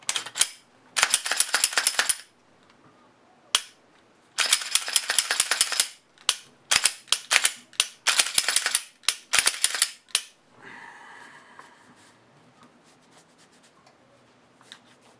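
An older Glock pistol, an early compact model, being reassembled after a Froglube treatment, with bursts of sharp metallic clicking and rattling as the slide and action are worked, separated by short pauses and ending in softer handling noise.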